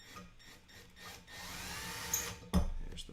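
A handheld power drill drives screws while a Prusa i3 MKS+ 3D printer is assembled, running in a steady whir for about a second and a half, then a sharp clunk and a fresh louder burst near the end.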